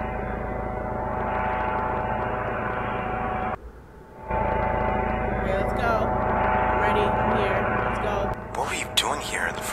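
Steady engine drone of a helicopter in a VR video game, loud and continuous, cutting out briefly midway and then resuming, with a voice speaking over it.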